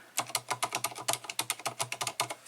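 Someone types quickly on a Corsair Strafe RGB MX Silent mechanical gaming keyboard, producing a close, even run of about twenty soft, damped key thuds with no talking.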